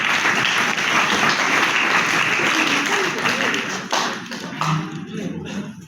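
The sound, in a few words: applause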